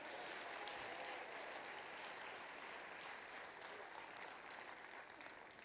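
A church congregation applauds in a continuous, even wash of clapping that holds steady throughout.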